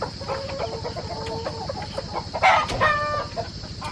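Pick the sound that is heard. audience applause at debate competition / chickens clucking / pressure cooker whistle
chickens clucking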